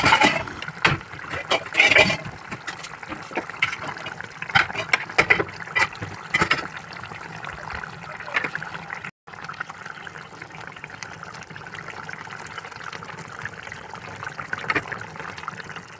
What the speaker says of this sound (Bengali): গ্রেভিটা ফুটতে শুরু করেছে